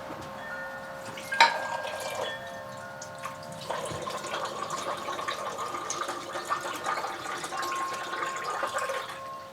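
Water runs and splashes into a pot holding a smoked ponce (chaudin, stuffed pig stomach), a steady close pour with a brief clank near the start.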